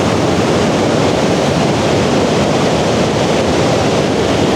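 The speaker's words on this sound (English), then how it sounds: "It's just such a force of water." Falls of Dochart in Scotland roaring steadily, a powerful rush of water split around a large island, heard close and loud as a continuous dense wash with some wind buffeting, no voices.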